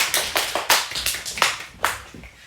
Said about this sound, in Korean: 다시 한번 박수로 축하해 주세요.